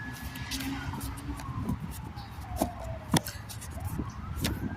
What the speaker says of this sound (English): you hear them sirens going off.